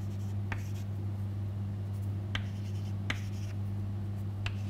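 Numbers and a diagram being written on a board, with a few short scratchy strokes spaced over a few seconds above a steady low electrical hum, quiet and close.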